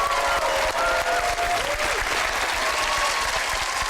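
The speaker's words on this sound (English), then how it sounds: "A round of applause." A live game-show audience applauds a magic act with loud, dense clapping that holds steady and unbroken for the whole stretch, along with a few faint whistles.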